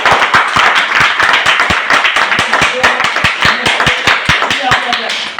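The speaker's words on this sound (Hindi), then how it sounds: "ताली काफी है सर, आप सब ले जोरदार" Rhythmic group clapping at a DXN office motivational gathering: sharp, evenly spaced claps in a steady beat, loud and near, with voices talking over the clapping.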